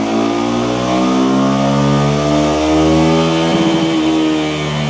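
A six-speed motorcycle held in fifth gear on a dyno revs hard and close, a loud sustained engine roar climbing steadily in pitch, with no voices.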